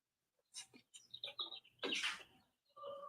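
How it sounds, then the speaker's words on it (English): Birds chirp outdoors in short, bright bursts of calls separated by brief pauses, fairly close and clear against a quiet background. "Ooh, the birds! I love the birds,"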